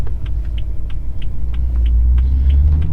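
A low, steady road rumble fills a BMW cabin while it drives, with faint, regular ticking on top and no speech.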